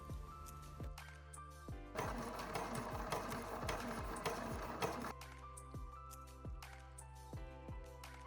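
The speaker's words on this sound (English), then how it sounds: "Fold the edge a second time and stitch over the first seam." A sewing machine stitches a blouse seam over a folded edge, its steady mechanical whir carrying regular needle clicks that speed up into a dense, louder run in the middle before slowing again.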